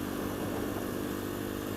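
Sinnis Apache motorcycle engine with an exhaust baffle fitted, a steady close buzzing run with no change in level.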